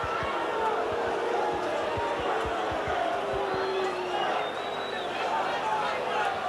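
Rugby league crowd at a Leeds versus Leigh match reacting to a referee's decision, a dense, steady roar of many voices filling the ground with scattered shouts, under continuous commentary.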